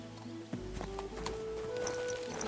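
An old horse in Kingdom Come: Deliverance II clip-clops along with a few distinct hoof thuds in a loose walking rhythm, close and moderately loud over a faint bed of game music.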